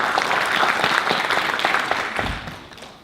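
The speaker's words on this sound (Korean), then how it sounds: "큰 박수로 맞이해 주십시오." Audience at a symposium panel discussion on the March 1st Movement applauds steadily to welcome a pastor to the stage. The dense clapping holds for about two seconds, then thins and fades away.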